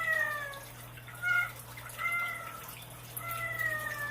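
A cat meows repeatedly, several drawn-out, rising and falling cries spaced across a few seconds, fairly close over a low steady hum, with no talking.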